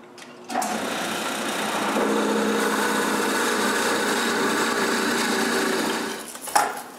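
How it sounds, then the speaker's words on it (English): A drill bores holes through wooden tripod blocks, starting abruptly and running as a steady, loud, high-pitched whine for about six seconds before stopping, with no voices. "Then I can move the stop block and drill the holes."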